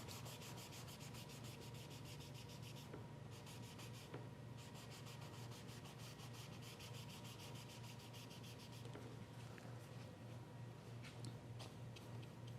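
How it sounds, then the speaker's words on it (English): A paper towel rubs and dabs against a wet watercolour wash on paper while excess paint is lifted from a landscape painting, making steady close scratchy friction with short rhythmic strokes throughout. "I'll use the paper towel to take some of it out."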